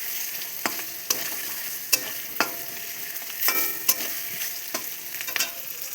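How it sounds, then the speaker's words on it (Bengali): Spice paste with green chillies fries in oil while a spoon stirs it, giving a steady close sizzle punctuated by sharp regular scrapes and clinks against the pan, with no talk. "কষিয়ে নেব ভালো করে। দিয়ে দেবো কাঁচা লঙ্কা।"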